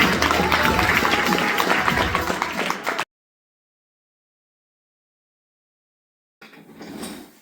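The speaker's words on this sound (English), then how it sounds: "Give a round of applause." Applause and cheering from an awards-ceremony crowd, a dense loud wash for about three seconds that cuts off abruptly, then a brief quieter burst of crowd noise near the end.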